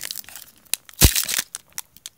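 Foil football trading card pack torn open with one sharp loud rip, surrounded by soft crinkling and light handling of the wrapper close by.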